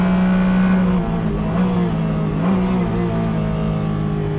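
A Porsche 718 Cayman GT4 Clubsport race car engine on the Snetterton 300 circuit, heard close from inside as a loud, sustained drone with pitch shifting through gears down the back straight, no talk.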